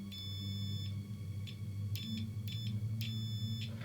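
A multimeter in continuity mode beeps when its probes touch, giving several short, high electronic tones in an uneven rhythm over a low steady hum.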